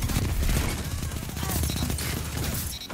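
Sniper rifle shots in a Destiny 2 Iron Banner match, dense overlapping gunfire and loud game action filling a short stretch without pause.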